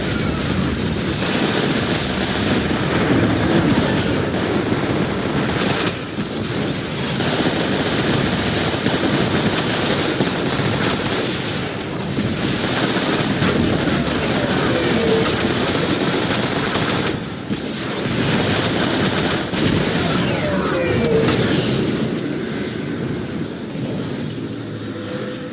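Automated station defenses in Transformers: War for Cybertron unleash sustained, loud gunfire, dense bursts of rapid shots and blasts rolling on almost without pause, alone with no voices.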